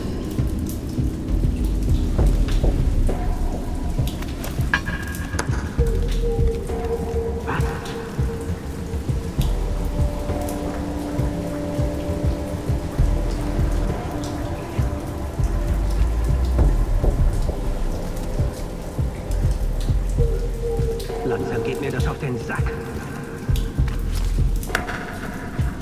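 Steady rain pours down with rumbles of thunder in the Far Cry 3 video game, a dense, continuous wash of drops on surfaces with no talking.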